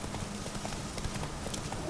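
Horse hooves clip-clop in a steady trot in The Witcher 3 video game, continuous and fairly close across the whole stretch, with no clear neigh standing out.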